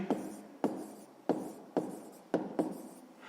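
Pen on paper during a sixth-grade maths exercise: short scratchy strokes come in quick bursts of about six, each starting with a tap as the pen meets the page, close and quiet with no talking.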